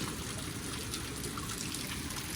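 Flood water running and trickling through a flooded house, a steady close wash of splashing liquid that continues without pause.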